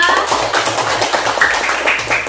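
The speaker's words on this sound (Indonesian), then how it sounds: "Kita berikan tepuk tangan bagi semua" Schoolchildren in an Islamic religious education class give a round of applause for all their classmates, a dense, even clatter of hands that carries on steadily for a couple of seconds.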